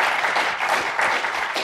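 Studio audience applause rising under a host's praise of a flat-tax economic program, a dense, continuous patter of many hands clapping at moderate volume, without speech over it.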